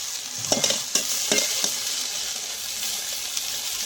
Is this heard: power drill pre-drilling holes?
no